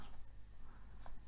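Marker or chalk scraping across a board in short strokes, faint and close, with a low steady hum underneath and no voice.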